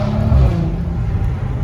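A Volkswagen Passat R36 fitted with a stainless steel valved exhaust rumbles loudly and close, a deep steady engine drone with a brief swell at the start, cruising at low speed.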